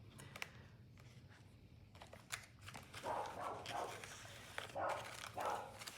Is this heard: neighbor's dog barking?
yes